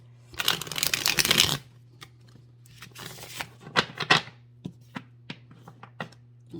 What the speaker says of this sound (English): And we'll do one more shuffle.